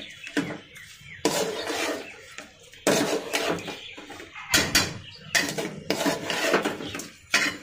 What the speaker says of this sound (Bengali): কষানো মাংসের মধ্যে আমি পোলাও চালটা দিয়ে ভালো করে এখন ভেজে নিব